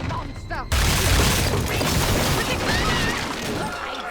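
A double-barrel shotgun fires in the video game Bioshock 2, a sudden loud blast with a crashing, debris-filled tail that rolls on for several seconds, under a narrating voice.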